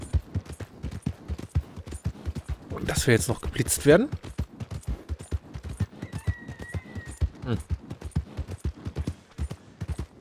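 A horse trots along in Red Dead Redemption 2 with steady, rhythmic clip-clopping hooves throughout, while someone talks over it.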